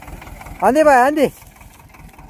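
A tractor engine on a farm revs hard for about half a second while reversing, loud and close, then drops back to a low idle chug, with people calling out over it.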